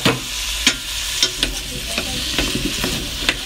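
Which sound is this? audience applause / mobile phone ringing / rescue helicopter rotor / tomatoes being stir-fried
tomatoes being stir-fried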